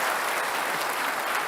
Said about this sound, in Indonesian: Kita kasih tepuk tangan untuk keduanya.